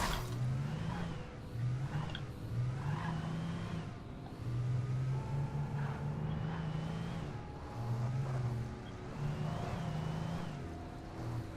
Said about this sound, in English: My car doesn't want to reverse either.